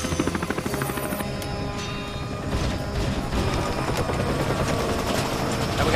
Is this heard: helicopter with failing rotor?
yes